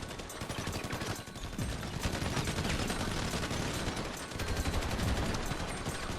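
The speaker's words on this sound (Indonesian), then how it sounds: "Tembakan, selamatkan si Tong" Dense, rapid gunfire rattles almost without pause in GTA V, loud bursts of automatic shots stacking over one another in a busy game battle.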